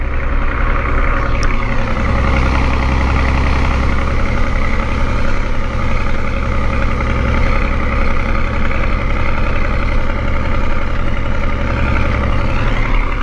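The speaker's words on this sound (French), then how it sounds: "je vais mettre le micro en haut parce que il y en a qui aiment écouter le son du tracteur." A tractor engine idles steadily and loudly, a deep continuous rumble with an even throb that holds for the whole stretch with no talking.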